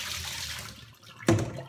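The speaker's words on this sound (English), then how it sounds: "Next, I'll just pour them through the strainer." Soaked tomatoes or strawberries in water are tipped into a kitchen strainer, giving a faint trickle followed by a sudden splashing gush near the end, brief and close.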